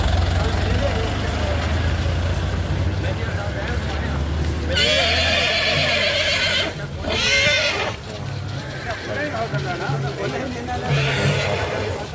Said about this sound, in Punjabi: ਬਸ ਘੋੜਾ ਆਪਣੇ ਸਥਾਨ ਤੇ ਪਹੁੰਚ ਚੱਲਿਆ ਵਾ